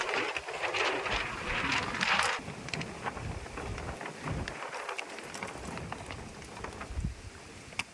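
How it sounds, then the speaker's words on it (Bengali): Strong wind gusting outdoors through a rainstorm, a steady broadband rush with rain noise and surges that rise and fall across the whole stretch, with no voices. "বাইরে প্রচন্ড হাওয়া ছেড়েছে"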